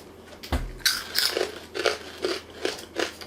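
Close, crisp bites into crunchy Mac's original pork rinds, a sharp first crack followed by a run of loud crunching chews, with no talk over it.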